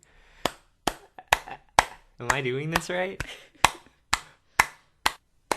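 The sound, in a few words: hands clapping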